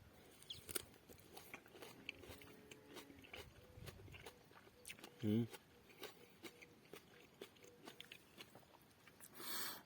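A person bites into a juicy To-Che-San plum, giving one distinct crunchy bite midway, then soft chewing, with near, faint mouth sounds and background noise.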